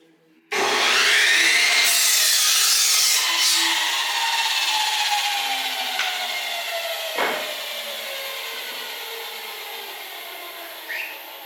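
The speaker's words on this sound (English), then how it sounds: "he helped me sand down the wood because they were all a brown color" Hand sanding of wooden legs and frame pieces for a fish tank rack at a carpenter's workshop, heard as a steady, close, continuous abrasive rubbing with a few sharp scrapes, alone and without talk.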